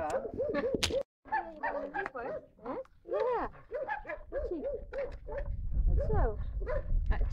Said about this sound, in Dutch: Chico is wel een beetje een apart hondje